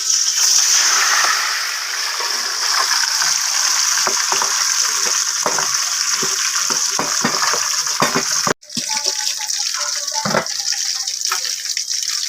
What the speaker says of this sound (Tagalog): Pag napahiran na po natin ng asin mga katropa ay atin na po itong iprito.